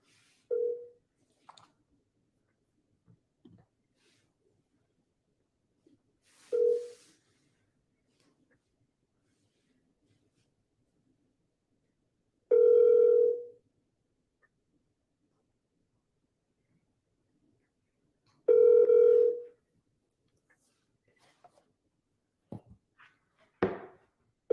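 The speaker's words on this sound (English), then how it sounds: "let me call this Bradley guy" A phone call to a broker: a few faint clicks, then two clear, separate electronic ringback tones several seconds apart, each lasting about a second, in a quiet room.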